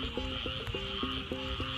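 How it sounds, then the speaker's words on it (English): Frogs croak in a steady, repeating pattern of short pulsed calls inside the calm eye of Hurricane Hermine, over a constant hiss of background noise, with no talking. "listen to the frogs chirping in the background."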